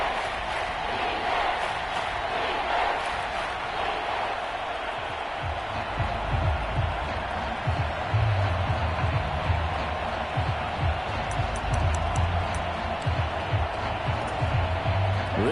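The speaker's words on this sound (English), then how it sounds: "This crowd doing all they can." Football stadium crowd roaring during a Falcons vs Saints game near the goal line, a broad sustained roar that swells and grows rowdier with cheering and shouts, under faint commentary.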